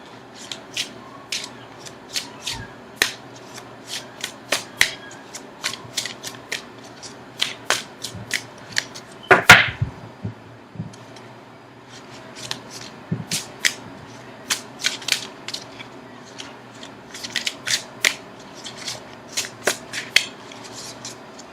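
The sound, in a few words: shuffling tarot cards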